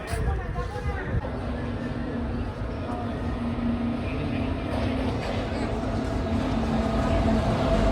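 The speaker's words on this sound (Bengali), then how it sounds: "এখন ট্রেন আসবে এক নম্বর প্ল্যাটফর্মে এখান থেকে কিন্তু উঠে যাবো আমরা ট্রেন আসছে ঢুকছে ট্রেন" A train pulls into platform one of a busy station, a steady low rumble and rolling rail noise building under crowd chatter and nearby talking.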